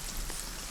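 Rain falls in a steady, soft hiss, a brief and fairly quiet wash of drops with no voices.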